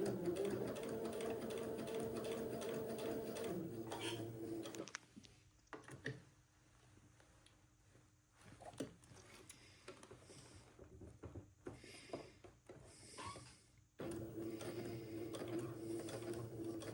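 A sewing machine stitches a stretched seam on an Eton suit, running in rapid steady bursts. It stops and leaves a pause filled with faint handling clicks, then starts up again.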